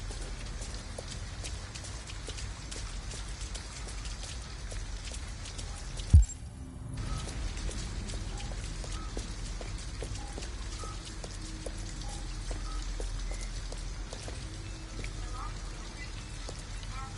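Steady rain pours down in the video game Detroit: Become Human, a dense, even hiss that holds for the whole stretch, broken once by a single sharp thump.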